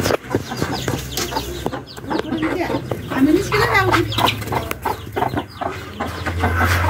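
A hen and rooster with chicks cluck and chatter nearby in a busy, irregular stream of short calls, with a faint voice and low background rumble underneath.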